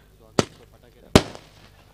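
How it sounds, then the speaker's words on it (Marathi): Two sharp firecracker bangs, about a second apart, go off at a local cricket tournament match to mark a batsman's half century, loud against a quiet background. "ही अर्धशतकासाठी हे फटाके होते पिरकोन संघासाठी"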